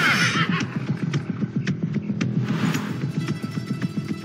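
A horse in the video game Blue Estate whinnies at the start over a steady, rhythmic clip-clop of galloping hooves that continues throughout.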